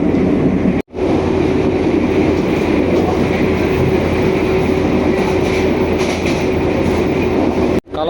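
Loud, steady rumble of a passenger train rolling along the rails between Sragen and Solo, Indonesia, heard from inside, with a constant drone and faint rhythmic clatter.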